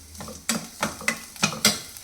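Dried chillies and curry leaves spitting in hot oil for a tempering, with sharp crackling pops and stirring clatter coming in irregular bursts over a low sizzle, close and fairly quiet.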